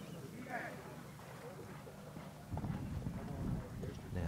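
Hooves of a horse ridden in modern pentathlon show jumping, a muffled low thudding that grows heavier toward the end, far off under a steady crowd murmur and wind-like hiss.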